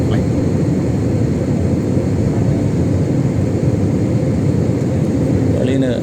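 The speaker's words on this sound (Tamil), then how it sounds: "AG UL 264 Airbus A320 Sri Lanka இந்த ஃப்ளைட்." Steady broadband roar of a SriLankan Airlines UL264 Airbus A320 airliner in flight, a constant loud cabin drone with no break, cruising from Saudi Arabia toward Colombo.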